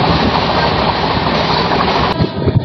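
An express passenger train on the Shalimar to Puri route running loud and close, a dense continuous roar of wheels and carriages with rhythmic rattling throughout.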